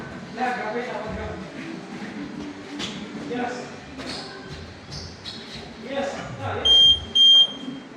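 Short high electronic smoke detector alarm beeps sound twice near the end, after a stretch of murmuring voices and shuffling.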